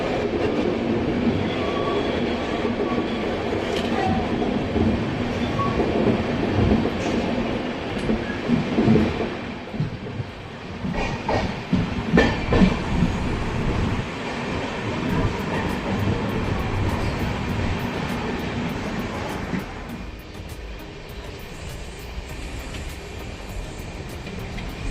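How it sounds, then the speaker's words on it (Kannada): A steady rumble rises from inside the Bidar–Machilipatnam superfast express as it pulls into Secunderabad Junction, with wheel clatter, rhythmic clicks over rail joints and brief metallic squeals. "ಇವಾಗ ನಾವು ಸಿಕಿಂದ್ರಾಬಾದ್ ಜಂಕ್ಷನ್ನ ಎಂಟ್ರ್ ಆಗ್ತಾಯಿದ್ದೀವಿ"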